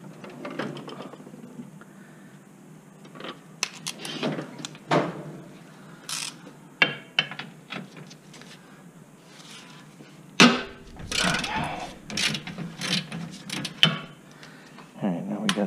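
A ratchet turning a 19 mm socket on the lower control arm of a Nissan Murano, quiet clicking pawl strokes in irregular bursts with metallic clanks, close up in a garage.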